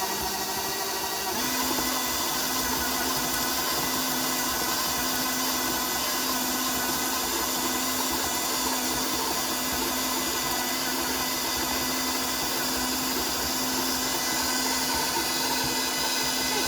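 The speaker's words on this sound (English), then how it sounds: "as you can see, the mixer does a lovely job" Electric hand mixer beating shortbread cookie dough, a steady loud motorized whir running continuously without pause and with no voices over it.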